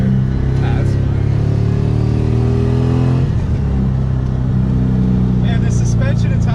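A Mazda RX7 with an LS1 V8 swap launches after a clutch dump, its loud, close engine droning and rising through the gears with a brief break near the middle while people talk in the cabin.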